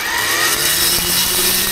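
A Japanese-made two-blade brush cutter whines steadily at high revs while cutting through grass, loud and close, its engine droning without a break.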